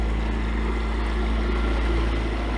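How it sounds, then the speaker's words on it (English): A Yamaha engine on the Woods Gypsy catamaran runs in a smooth, steady low drone, close and even, with no break or change in pace over the short stretch. "And the engine is purring like a sewing machine, a Yamaha sewing machine"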